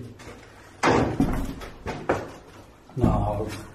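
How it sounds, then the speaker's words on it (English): Heavy door in an abandoned mental hospital creaking and thudding as it is pushed open, several loud knocks and scrapes in an echoing room, with a person speaking at moments. "that door, I'm afraid to open it"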